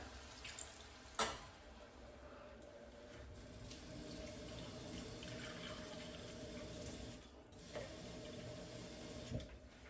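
Water pours and trickles steadily into a pot, with a couple of brief clinks and knocks at the start and the end.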